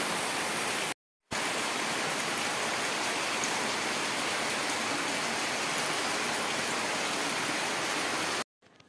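Steady rain pours down in a village, a dense continuous hiss that fills the whole stretch except for a brief gap near the start and another at the end.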